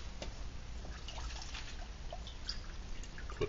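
Water pours steadily into a titanium pot, a soft continuous splashing and trickling close by with small drips.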